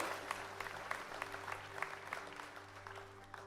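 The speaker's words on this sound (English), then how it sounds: "Yeah, we could clap, we could celebrate." A church congregation applauds during a sermon, with scattered, fairly soft claps at a moderate distance over a steady, sustained tonal hum.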